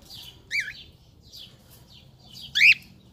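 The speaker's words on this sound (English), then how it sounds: "That's the new bird." A pet bird in a home gives two short, bright chirps about two seconds apart, the second louder, over a faint low household hum.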